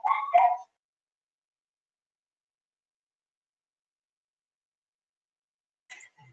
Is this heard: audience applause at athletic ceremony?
no